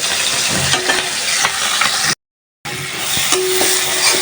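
Small desi puti fish frying in a pan for a curry with tender green stalks. A steady, close, crackling sizzle runs throughout, with occasional stirring clinks and one brief total dropout midway.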